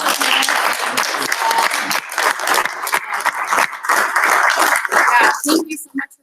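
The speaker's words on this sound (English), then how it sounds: "I think we need to give them all a round of applause" Audience applause at a community event, broadband clapping under overlapping voices for about five seconds before fading out quickly near the end.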